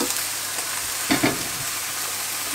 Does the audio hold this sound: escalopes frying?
yes